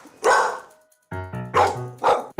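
A dog barks several times in quick, loud, close bursts, with a brief high whine between the barks.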